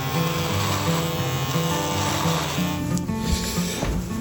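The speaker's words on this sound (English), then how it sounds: "I'm gonna shave my beard" A steady electric razor buzzes as it cuts through a beard, close and continuous with a rough, rubbing texture, briefly dipping near the end.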